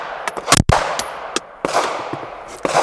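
Sharp, loud Glock pistol shots through an LWS Tomahawk ported barrel, fired indoors, several close cracks in quick succession with echoing reverb between them and no talk.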